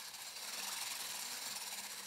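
An electric hand mixer whisks two litres of whipping cream in a large bowl for a strawberry shortcake, giving a steady, continuous high-pitched whir with no breaks and no talking.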